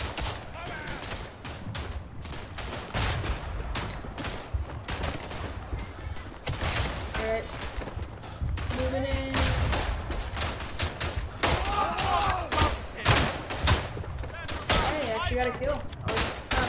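Gunfire and grenade blasts in the World War One shooter Verdun, a dense, continuous battle din of rifle shots and bursts layered with heavier thuds, loud throughout with some voices mixed in.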